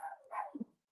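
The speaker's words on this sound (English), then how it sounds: "And there goes the dog." A dog lets out a single short bark in a home, heard at moderate distance and fairly faint, with a brief tail afterward and no talk over it.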